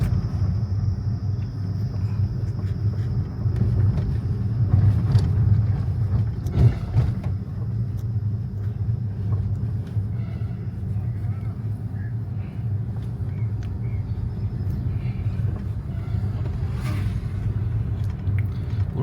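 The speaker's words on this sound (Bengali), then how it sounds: "সামনে আর্মি ট্রাকসও যাচ্ছে।" Low rumble of army trucks driving past on a hill road in an army area, a steady engine drone that swells briefly in the middle, with faint insects and occasional voices underneath.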